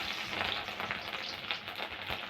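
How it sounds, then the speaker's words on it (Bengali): Garlic crackles in hot mustard oil in a wok, a close, fluttering sizzle with bursts of spitting and no voices. "তেলটা গরম হয়ে গেছে, আমি রসুন দিয়ে দেবো"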